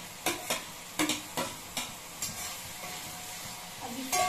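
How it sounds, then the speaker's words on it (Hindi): Chopped tomatoes with ginger garlic paste are stir-fried for a gram flour curry, a soft sizzle broken by a handful of sharp spatula scrapes and taps against the pan, spaced irregularly. "इन सभी चीजों को बहुत अच्छे से भून लेना है ताकि अदरक लहसुन के पेस्ट का कच्चापन बिल्कुल भी ना रहे।"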